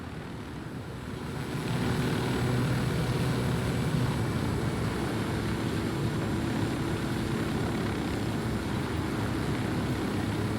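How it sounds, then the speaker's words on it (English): Steady, loud helicopter rotor and engine drone from the video game Ghost Recon Wildlands, rising slightly in the first two seconds and then holding a constant broadband roar with no talk. "the mechanics of flying the helicopters in this game are pretty good"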